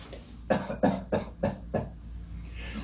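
A series of five coughs in quick succession, fairly close and moderately loud, then quiet background.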